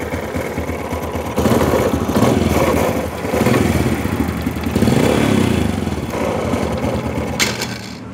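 Honda Supra Fit motorcycle engine with a knocking fault when the throttle is released: a close, loud, continuous running engine with rhythmic surging and a clattering, rough undertone, no talk.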